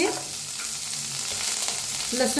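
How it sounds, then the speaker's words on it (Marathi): Green peas and chickpeas dry-roast in a pan with garlic, giving a steady close sizzle with light stirring and occasional soft scrapes, no voices. "आता हलकसं मटर आणि हरभरा भाजायला लागलेला आहे"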